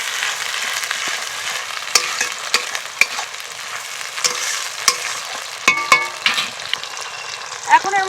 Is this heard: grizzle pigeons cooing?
no